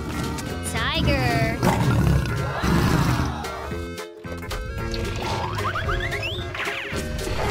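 Tiger roars over a busy children's animal-sounds soundtrack, a loud sustained growling roar mixed with music and other layered effects, with a brief drop to near silence midway.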